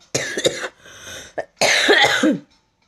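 A person with a lingering cough, troubled at night, coughs nearby: a quick double cough, a short raspy breath, another brief cough, then a longer harsh hacking burst that trails off into silence.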